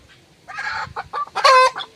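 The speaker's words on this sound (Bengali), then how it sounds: "দুটো মুরগি ধরেছি তো এর থেকে একটা নেবো যেটা ভারী সেটা নেব" A freshly caught desi village hen squawks and clucks loudly up close in a few agitated bursts, growing sharper toward the end.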